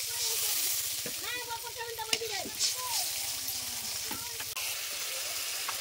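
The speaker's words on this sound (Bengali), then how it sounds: "মশলাটা ভালোভাবে কষানোর জন্য জল দিয়ে দিচ্ছি" Chili and turmeric masala cooks in a pan after a splash of water goes in, giving a steady, moderate sizzle throughout with a low hum and a few faint scraping sounds on top.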